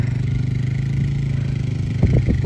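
A motorbike engine chugs steadily at idle on a farm, close by, with a few brief clunks and rattles near the end.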